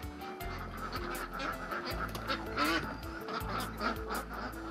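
Vigova ducks, a meat breed from White Pekin and Aylesbury stock, give repeated nasal quacks close by at a lake formed in old bomb craters. The calls come in short bursts over a busy outdoor background.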